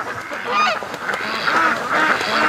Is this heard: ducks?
yes